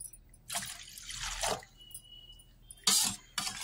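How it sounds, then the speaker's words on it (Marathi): Water pours in two short splashing bursts into a mixer jar, a glass at a time, separated by a quiet pause, close and clear. "1 ग्लास पाणी टाकले पहिले,"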